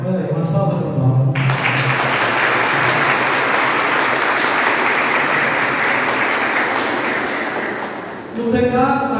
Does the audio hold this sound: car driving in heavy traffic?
no